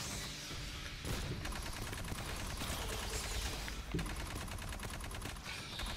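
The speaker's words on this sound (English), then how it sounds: "Let's use electroshock rounds." Rapid electroshock-round gunfire in the sci-fi shooter Aliens: Fireteam Elite, dense sustained bursts with a brief break around the one-second mark, loud and continuous over busy game noise.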